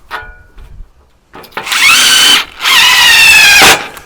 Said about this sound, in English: I'm going to come on the other side and put a couple screws in here